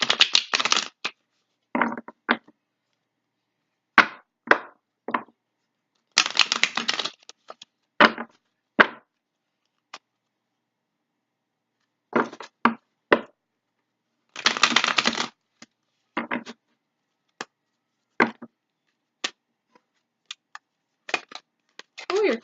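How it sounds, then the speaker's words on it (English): Tarot cards are shuffled in repeated short bursts of riffling and slapping, close and crisp, with quiet pauses between bursts. "So let's start shuffling your cards."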